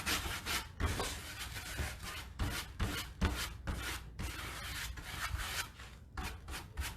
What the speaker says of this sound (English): you work the wax into your piece